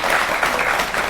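Studio audience at a televised Hindi political debate show applauds steadily, a dense continuous clatter of clapping held at an even, fairly loud level throughout the brief moment, with no voices on top.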